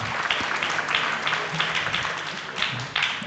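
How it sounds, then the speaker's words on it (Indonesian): Audience at an education talk show applauds Professor Fahmi Amhar, a continuous wash of mixed clapping at moderate level that swells and dips slightly over a few seconds. "Boleh tepuk tangannya untuk Profesor Fahmi Amhar."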